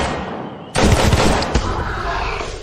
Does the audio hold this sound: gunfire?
yes